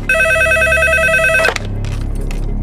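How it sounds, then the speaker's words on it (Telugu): A loud, steady electronic telephone ring tone sounds briefly, then stops abruptly into a dull background hum. "నంబర్ కలిపి నేను మాట్లాడతాను."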